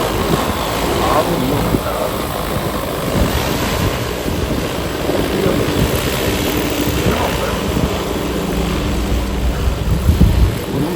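A KM45 agricultural drone runs its propellers at a delivery site in windy Paju, giving a steady, loud whirring drone throughout while someone talks over it.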